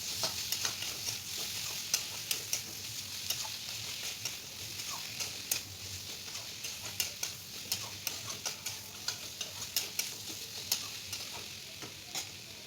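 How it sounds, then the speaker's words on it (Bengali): Dried fish with drumstick and potato pieces is stir-fried in a pan, giving a faint, even sizzle broken by regular light ticks of a utensil scraping and stirring. "এবার খুব ভালো করে কষিয়ে নেব।"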